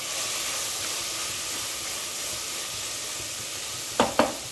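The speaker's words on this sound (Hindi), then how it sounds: "और ये देखिए दाल हमारा कितने बढ़िया से भुन गया" Dal roasts in a dry pan with a steady, even sizzling hiss, ending in two quick spatula knocks against the pan, close and without talk.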